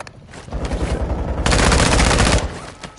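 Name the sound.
gunfire, likely from a video game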